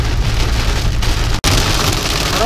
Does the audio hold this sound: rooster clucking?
no